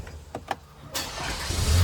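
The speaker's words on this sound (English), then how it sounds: "once I fire the truck up" A 2024 GMC Canyon pickup engine cranks and catches after a couple of faint clicks, then settles into a low, close idle, with no talking.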